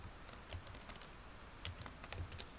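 Quick bursts of computer keyboard typing as a value is entered into a text box, soft, close clicks in uneven clusters with short pauses, no talking.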